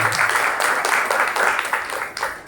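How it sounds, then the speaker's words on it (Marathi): An audience claps loudly and steadily at a devotional gathering, a dense wash of applause lasting the whole moment and fading slightly toward the end. "म्हणून त्यांच्यासाठी आपण जोरदार टाळ्या वाजवत आहोत"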